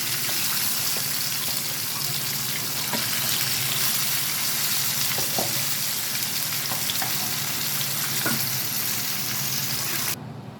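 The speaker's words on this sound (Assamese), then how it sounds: "আৰু দুইফালে অলপ ৰঙচুৱা হোৱালৈকে মাছখিনি ভাজিব দিম।" Rohu fish pieces fry in mustard oil with a dense, continuous hiss that stays even and fairly loud throughout, faint clicks scattered through it, then cuts off abruptly near the end.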